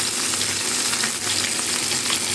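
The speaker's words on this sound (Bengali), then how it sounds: "এইভাবে আপনারা মাছ ভাজবেন।" Bhola fish frying in hot mustard oil gives a steady, dense, close-up sizzle that stays even from start to finish.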